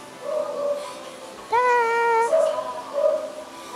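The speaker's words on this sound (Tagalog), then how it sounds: "Ingay na naman ng mga aso." Dogs making noise near an outdoor kitchen: a drawn-out, high, wavering whine or howl in the middle, with softer whimpering calls before and after it.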